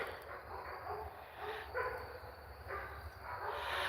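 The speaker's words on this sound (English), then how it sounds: "Yes, the dogs are all excited." Excited dogs bark and whimper in a few short bursts, faint and somewhat distant against steady outdoor background noise.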